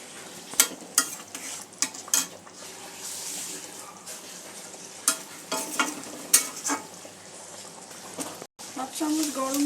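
Creamy North Indian paneer curry sizzling in a pan with kasuri methi and garam masala as a spoon scrapes and stirs it, steady frying hiss with repeated clinks of the spoon against the pan.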